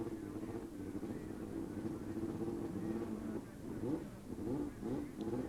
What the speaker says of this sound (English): this is the supercharged Suzuki of John McKean, and he's racing the 1260 turbo and nitrous Kawasaki of Chris Easter